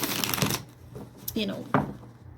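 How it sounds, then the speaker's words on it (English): A deck of tarot cards is shuffled up close in a riffling burst, followed by a few softer card taps while someone speaks over it. "I would like to shuffle a little bit to see what energy is kind of"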